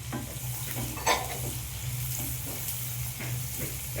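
Chopped onions and two slit green chillies fry in a pan for a vegetable dal, a steady close sizzle with soft stirring scrapes and one sharper clink of the spoon.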